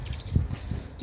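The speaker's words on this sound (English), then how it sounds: "Water my plants." Soft, irregular dripping and splashing of water from watering plants close by, low and steady throughout with no voices.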